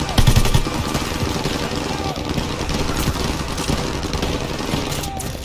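Machine gun fire in the World War II shooter game Call of Duty Vanguard rattles in dense, continuous bursts throughout, mixed with engine rumble and battlefield noise.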